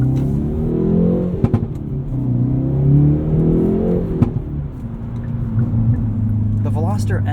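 A Hyundai Veloster N engine drones at close range during a night drive, its low rumble rising and falling with the throttle, while someone talks over it throughout.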